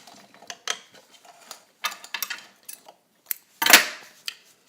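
A vintage all-metal Italian-made Necchi BU Nova zigzag sewing machine back tacks through textured fabric, giving short, separate bursts of metallic mechanical clicking and whirring with quiet pauses between them.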